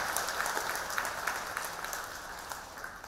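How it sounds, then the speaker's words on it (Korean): Applause from a temple congregation at a Saturday Buddhist dharma talk, honoring students who just sat the college entrance exam, a steady faint patter of many hands clapping at a distance. "우리 수험생분들 향해서 우리 박수 한번 부탁드립니다"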